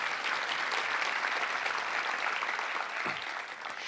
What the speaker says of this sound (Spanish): Dale un gran aplauso a ese Dios todopoderoso.